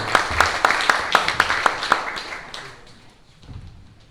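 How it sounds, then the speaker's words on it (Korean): Sparse, distinct claps from a small audience at a Korean mission seminar at a graduate school welcome the next speaker. About a dozen evenly spaced claps ring close, then thin out and fade within a few seconds. "우리 박수로 맞이하겠습니다"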